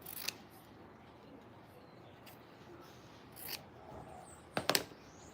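Scissors cut material for a homemade cat toy, producing a few sharp, close snips spread across a quiet background, the last ones in a quick cluster.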